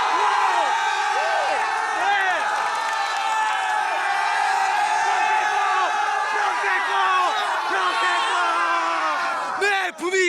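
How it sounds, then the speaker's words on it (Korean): A crowd of high school students shouts, whoops and cheers loudly and continuously for about ten seconds at a school soccer event, many voices overlapping in rising and falling yells. "다짜고짜 함성 한 번씩 갈까요?"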